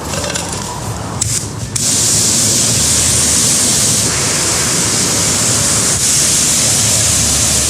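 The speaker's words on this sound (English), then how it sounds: "Actually, I'll just wash it a little bit. Just beat off the pieces of dirt." Water sprays hard onto an electric bike to rinse off dirt, a loud steady rushing hiss that starts after a brief quieter opening and continues unbroken.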